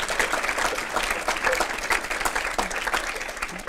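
An audience applauds a guest speaker, Matt of Benchmark, at a presentation, giving dense, sustained clapping that stays loud and even throughout.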